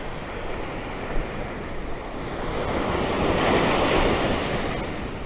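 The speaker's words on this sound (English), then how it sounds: "Better watch those sneaker waves, they'll get you, Rock." Ocean surf breaking on Sisters Rock Beach on the southern Oregon coast, a steady rushing wash of waves with wind buffeting the microphone, swelling louder midway, with no talking.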